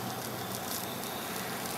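A gas burner hisses as a burger bun toasts over its flame, giving a steady, even, close rush of noise with no voices.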